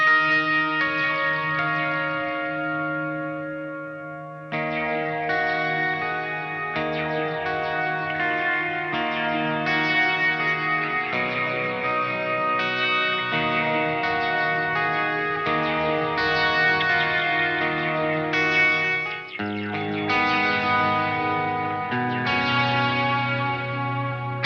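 Electric guitar run through a Boss DD-200 delay pedal in Tera Echo mode, sustained chords and notes smeared into a dense, shimmering wash of repeats, steady and loud throughout with no talking.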